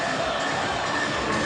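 A gym crowd at a state final high school basketball game roars continuously just before the tip-off, with dense cheering and shouting from the student sections at both ends and no break in the noise.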